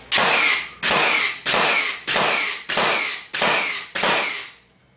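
Metabo cordless framing nailer firing in bump fire mode, seven sharp, loud nail shots in a quick, even rhythm, each snapping hard with a short decaying tail, then quiet.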